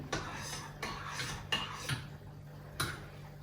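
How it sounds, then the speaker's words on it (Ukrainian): Utensil stirring rassolnik soup with potatoes and bulgur in a pot, giving several scraping, clinking strokes at irregular intervals over a steady low hum, close and fairly quiet with no talk. "Так, заклали, перемішуємо. Перемішуємо."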